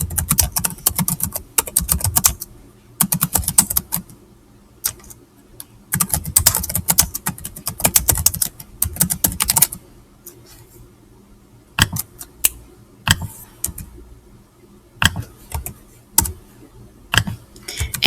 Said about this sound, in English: So I'm going to type that in for my notes for map scale.